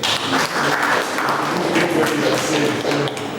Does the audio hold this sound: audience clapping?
yes